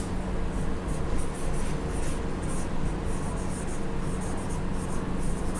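Chalk scratching steadily across a classroom board as a teacher writes out a Hindi grammar example on nouns, a continuous close rasping texture with short strokes and pauses, no voices.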